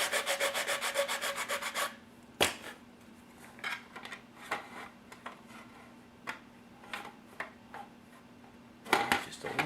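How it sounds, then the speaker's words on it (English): An abrasive Permagrit sander working a King Hauler truck model part during a day cab conversion, heard as short intermittent rubbing strokes, close and fairly quiet, with a steady faint hum underneath. "So I'll use my permagrit sander here."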